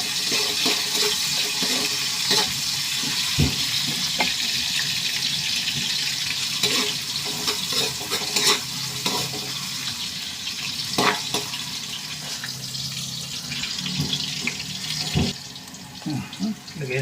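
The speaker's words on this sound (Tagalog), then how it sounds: "Sabay na natin yung luya para mag golden brown din yung luya." Ginger sautés in a pan for tinolang manok, giving a continuous hissing sizzle with occasional sharper pops and stirring knocks that stays steady throughout.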